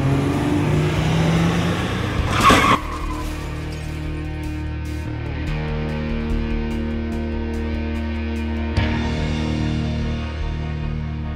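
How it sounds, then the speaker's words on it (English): A car engine drones steadily as the car approaches at about 40 mph for a staged movie crash stunt, with two sharp bangs breaking through, loud and close, no voices. "The car is going to be coming from over here at about 40 miles an hour. It's going to hit this car."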